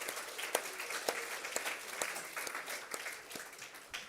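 A church congregation at a Sunday afternoon service claps in thanks to a pastor, a moderately faint, dense patter of many hands with a few sharper individual claps standing out, no talking over it.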